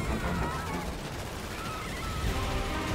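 Chaotic gunfire crackles in a video game during a tsunami and meteor disaster scenario, a dense, continuous burst of shots and bangs filling the whole stretch, loud and close.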